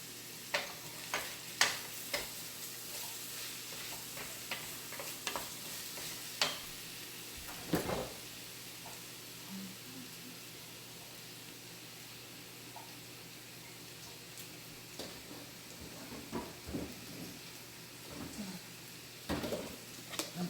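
Pumpkin and sliced carrot chunks sizzling quietly in a pan, a soft steady frying hiss broken by intermittent clicks and scrapes of stirring utensils.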